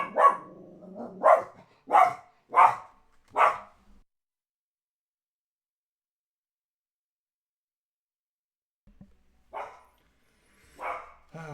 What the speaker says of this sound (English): She barks for Victor, I guess